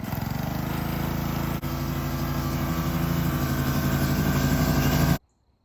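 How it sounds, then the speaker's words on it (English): A free gas pressure washer's engine runs steadily with a loud, droning mid-to-low hum and a brief hiccup partway through, then cuts off abruptly, leaving near silence for the final half-second. "Now it's time to pressure wash the pressure washer"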